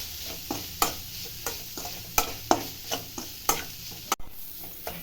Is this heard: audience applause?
no